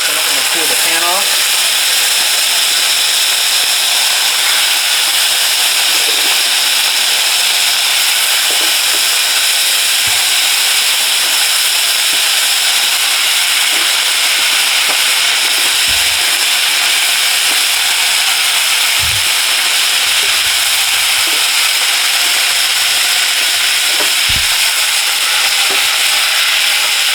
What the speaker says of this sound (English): As you can hear, that was a really hot pan, and that's how we want it. So we get some good sear on that beef.